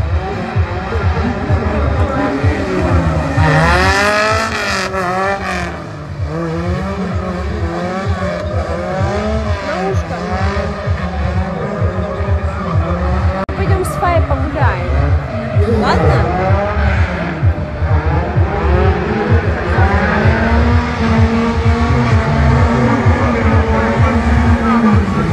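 A drift car at a night round of the RDS West 2021 series revs hard and loudly with shrieking tire squeal, amid a dense wash of event noise and shouting voices.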